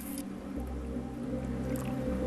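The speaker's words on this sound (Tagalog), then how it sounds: "Ubuhusan na natin ng tubig." Water is poured into a hot frying pan holding a cooking egg, producing a steady, close hiss and sizzle with a faint wet squish that lasts throughout.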